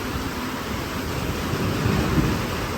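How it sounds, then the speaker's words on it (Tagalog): Steady rain hisses loudly on a campsite with a low rumble of thunder swelling midway, continuous and close, no voices. "Camping update. It's now raining."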